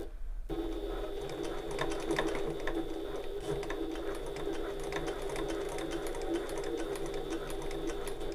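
A sewing machine stitches a bag, starting after a brief quiet moment and then running in a close, steady rapid chatter with a rhythmic ticking texture throughout.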